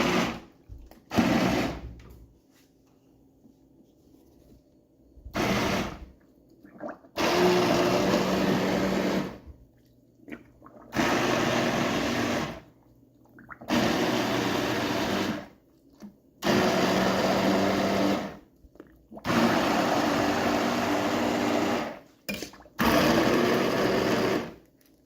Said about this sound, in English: once I blend it up is when I'm going to add my seasonings